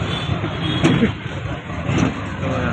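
An auto rickshaw engine runs with a steady low rumble and mild revving, heard from inside the vehicle along with road noise.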